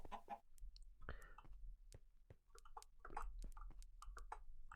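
Chickens in the Minecraft video game give soft, scattered clucks and short squawks, faint and intermittent over a quiet low hum, with a few light taps between calls.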